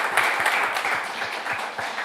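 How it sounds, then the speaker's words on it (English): An audience at a live radio show in a studio setting applauds, a dense, steady wash of clapping heard close and continuous without any talk. "how about we get one more round of applause for Roland Dixon"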